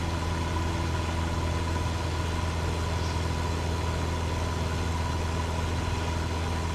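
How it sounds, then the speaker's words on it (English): Aircraft engine and exhaust heard through a missing side door in Microsoft Flight Simulator 2024, a steady raspy drone with a low rumble and a constant hum, without speech. "we don't have a door on the side, so you hear the raspiness of the engine and that exhaust"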